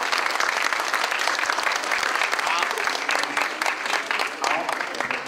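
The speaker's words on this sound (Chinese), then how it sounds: "我们在座的同学跟学弟啊，能不能给这些老师一些掌声好不好？" Dense, sustained applause from a seated audience of students honouring retiring teachers at a farewell ceremony, many hands clapping loudly and continuously from start to finish.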